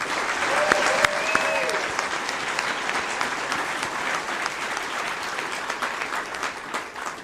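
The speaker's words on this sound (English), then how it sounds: "please give her a round of applause" Audience applause at an Angel Studios Illuminate 2024 event, a full round of clapping that gradually thins and fades, with a brief whistle and a voice heard early on.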